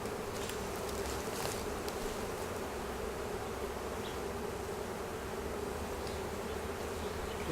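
A swarm of honeybees at a hive in Cupertino, California, buzzing in a dense continuous drone, close and steady throughout with no talk.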